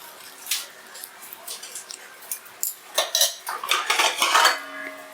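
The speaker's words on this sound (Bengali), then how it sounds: "জল দেওয়ার পর খুব ভালো করে সবজি মশলা আর জল এইভাবে মিশিয়ে দিলাম" A spoon clatters and scrapes inside a metal pot as vegetables, spices and water for a Bengali eggplant and hilsa curry are stirred together, in irregular bursts of clinks that grow busier toward the end.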